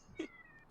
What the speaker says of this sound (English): I'm just stealing the cat sound for this.